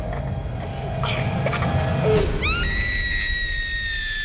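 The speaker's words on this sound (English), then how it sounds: "the sound of his daughter's scream" A girl's high, sustained scream rises sharply partway through and holds to the end, loud over a busy background of music and effects in an animated horror story.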